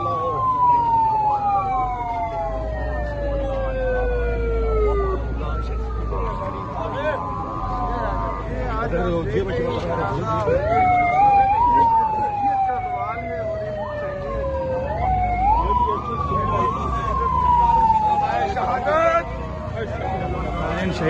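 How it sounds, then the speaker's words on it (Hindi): Ambulance siren wailing in repeated rising and falling sweeps, loud and close, as the vehicle carries a slain journalist toward a mosque in Islamabad, with a crowd and voices talking underneath. "शहीद अरशद शरीफ को आपने देखा एम्बुलेंस में इस वक्त फैसल मस्जिद की जानिब उन्हें लेकर जाया जा रहा है।"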